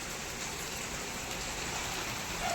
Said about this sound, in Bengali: বৃষ্টি পড়ছে যেহেতু।